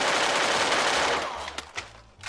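Rapid automatic gunfire rattles in the Free Fire video game, a loud sustained burst of shots that fades out and gives way to a few scattered single shots.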